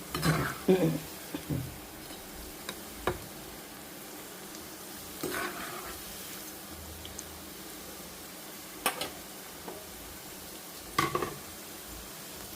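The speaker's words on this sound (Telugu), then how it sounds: "సో పకోడీ వేగుతున్నాయి చూడండి" Paneer pakoras fry in hot oil with a soft, steady sizzle beneath scattered clinks and scrapes of a utensil against the pan, fairly quiet overall.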